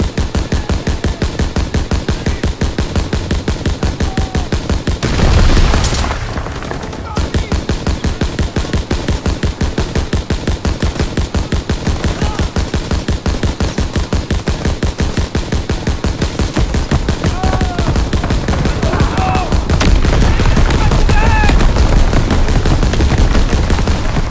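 Sustained battlefield gunfire in the video game Call of Duty WWII, with dense, rapid machine-gun bursts firing almost without pause for the whole stretch, loud and close, along with faint distant shouts.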